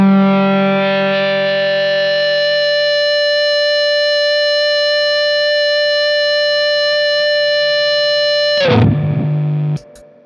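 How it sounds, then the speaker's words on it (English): A sustained, singing electric guitar tone played with an EBow, held steady with heavy fuzz distortion, buzzing harmonics, then abruptly cut off with a short noisy burst near the end. "if I throw a bit of fuzz or distortion on that,"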